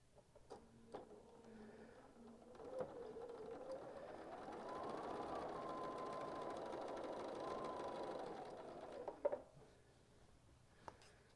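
A sewing machine hums steadily for several seconds while stitching quilt squares, a continuous mechanical whir rising after a few light clicks and ending with a soft clatter.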